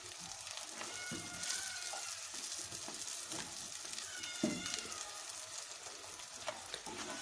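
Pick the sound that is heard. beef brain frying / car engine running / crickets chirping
beef brain frying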